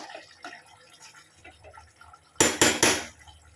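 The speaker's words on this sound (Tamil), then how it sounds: "பிரியாணி லைட்டாக கிண்டி விட்டு" Chicken biryani being stirred in a pot, with a quiet stretch giving way to a loud cluster of clattering, scraping strokes near the end.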